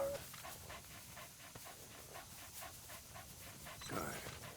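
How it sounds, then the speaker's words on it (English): A dog pants in the video game Metal Gear Solid V, with quick rhythmic breaths close by that repeat steadily across the moment, mixed with game ambience and a faint voice. "Good. Good dog."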